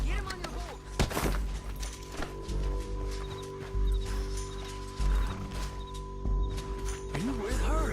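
Horse hooves clip-clop in Red Dead Redemption 2, a steady trotting beat under a musical drone, with a snort near the start and characters talking over it.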